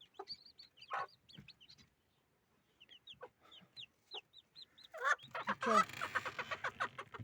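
Several chickens cluck and chirp nearby in short, uneven bursts, growing louder and busier toward the end.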